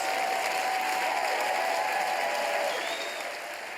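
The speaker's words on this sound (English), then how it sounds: "The crowd is going nuts." A live concert audience applauding and cheering for a band, dense sustained clapping with a few whistles and shouts, loud throughout before easing slightly at the end.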